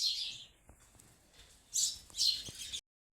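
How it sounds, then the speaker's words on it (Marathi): Sparrows chirping in short bright bursts, a few close calls early and then two louder flurries near the end, with quiet gaps between. "नाही तर ते लय चिव चिव चिव चिव करत राहतात."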